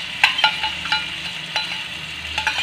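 Capsicum and tomato ketchup sautéed for pasta, a low sizzle under repeated clinks and scrapes of a spoon stirring in the pan at an uneven rhythm.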